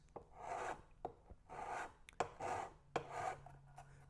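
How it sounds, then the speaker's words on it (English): An old Craftsman file rasping against a plastic Magpul PMAG magazine on a workbench, close and quiet, in four slow even strokes with small knocks between them. "I'm just using some old Craftsman file that I happen to have here on the bench"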